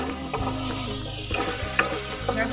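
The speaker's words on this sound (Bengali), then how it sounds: "টমেটোটা ভালো করে একটু নেড়ে নিই।" Tomato stirred while frying in a pan, close spatula scrapes and clacks breaking through a continuous sizzle, with a few sharper knocks near the end.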